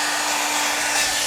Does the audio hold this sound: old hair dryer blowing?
yes